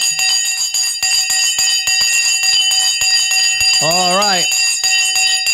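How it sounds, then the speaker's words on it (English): An opening bell for the stock market rings in rapid continuous strokes, loud and sustained across the whole stretch, while someone talks briefly over it. "we're going to ring the Sensei bell"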